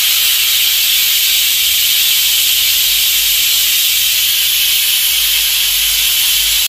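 A pressure cooker cooking dal releases steam in a continuous, loud, bright hiss that holds steady and then cuts off abruptly at the end.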